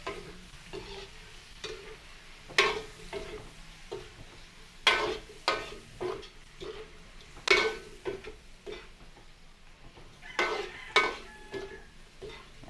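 Shrimp sautéing with garlic in a pan during Filipino home cooking: a low sizzle broken by repeated sharp scrapes and clatters of stirring, close and moderately loud, with no voices.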